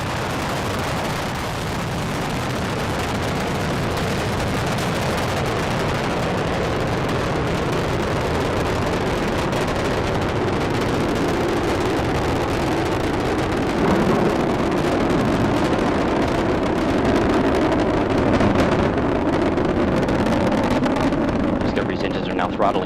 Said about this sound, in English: Discovery's engines are now throttling down as the orbiter passes through the area of maximum pressure, reducing the stress on the shuttle as it goes supersonic